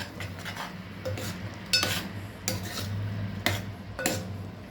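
Gongura chicken being mixed in a metal pot, with a spoon scraping and clinking against the sides in repeated strokes over a low background hum, close and moderately loud, no voices.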